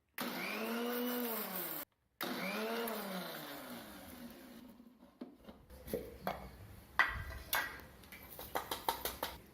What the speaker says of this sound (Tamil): இப்போ மிக்ஸி ஜாரில் போட்டு அரைக்க போகிறேன்